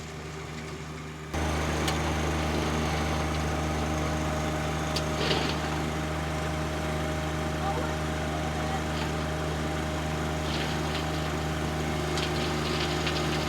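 A John Deere 1025R compact tractor engine runs steadily during landscape grading work, a constant low droning hum close by with faint higher mechanical whine and occasional clicks.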